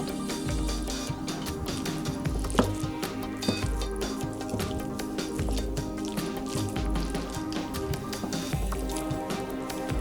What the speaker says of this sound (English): Mix the ground beef with the egg.